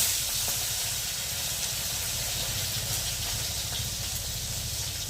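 Tomato pieces going into hot oil in a pan for a Bengali mustard parshe fish dish give a steady, close, broadband hiss that holds evenly throughout with no talking.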